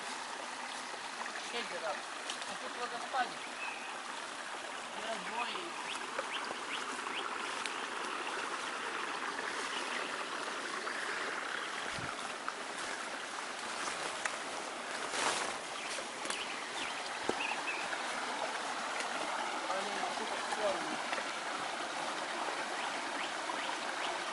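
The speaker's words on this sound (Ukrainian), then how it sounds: "Водоспад невеликий." A small waterfall splashes in a steady, even rush of water, nearby and continuous, with occasional faint knocks in the background.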